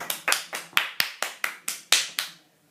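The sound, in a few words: applause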